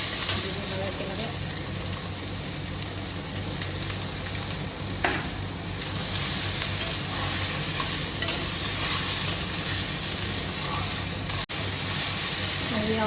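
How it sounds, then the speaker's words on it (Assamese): Elephant apple pieces sizzling in a pan with salt and turmeric, a steady crackling fry close by with occasional scrapes of stirring, continuing evenly throughout. "খুব ভালকৈ এবাৰ ভাজি ল'ম আৰু ইয়াতে নিমখ হালধি দি দিম"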